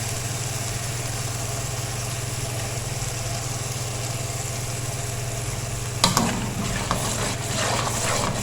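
Onion, almond and cashew paste fries in a pan for pepper chicken, a constant close sizzle over a low hum, with sharper stirring scrapes and clatter near the end.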